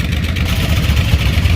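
Yamaha V-Star motorcycle engine running close by, a steady low throbbing rumble with slight swells in revs throughout, no voices.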